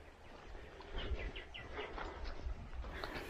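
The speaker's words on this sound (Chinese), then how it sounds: "这里有好多鸟叫的声音啊" Many birds chirp and call in quick, repeated bursts near a river in Laos during the dry season, the calls fairly close and layered over a low, steady outdoor background.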